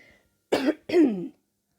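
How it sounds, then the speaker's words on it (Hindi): Two short, close coughs in quick succession, then silence. "बारिश हुई है ना, इसलिए थोड़ा सा खांसी है मुझे"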